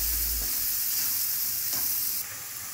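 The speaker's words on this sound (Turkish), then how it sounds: "Soğanı şimdi kavuruyoruz." Steady, close sizzling of onions frying in a hot pan, with occasional stirring scrapes and no voices.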